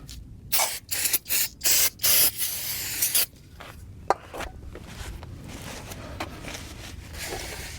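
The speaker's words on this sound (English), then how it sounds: "So now we're gonna go ahead and use some brake cleaner here." Brake cleaner sprayed onto a new rear brake rotor of a Toyota RAV4 in a home garage: five close, loud hissing bursts about a second long each in quick succession, then quieter handling noise with one sharp tap.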